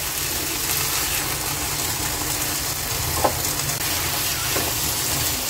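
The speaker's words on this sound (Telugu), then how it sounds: "దీన్ని కూడా పచ్చివాసన పోయే వరకు ఫ్రై చేసుకోవాలి" Tomato puree fries in a pan with a steady, loud sizzle and hiss, a couple of faint clicks poking through the continuous crackle.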